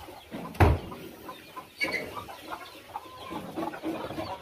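Chickens cluck softly near their coop, with a sharp thump early on and scattered calls under steady wind noise.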